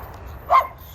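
A single short dog bark close by, rising out of quiet outdoor background during a walk.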